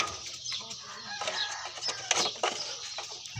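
A red junglefowl rooster crows nearby in a short, bright call, with some clucking and rustling around it.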